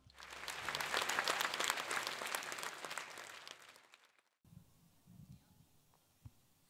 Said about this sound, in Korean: 여러분들 큰 박수로 맞이해 주시기 바랍니다.